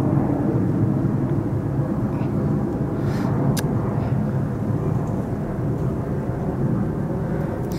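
An airplane passes overhead as a continuous low, rumbling drone that holds steady and fairly loud, with faint background noise.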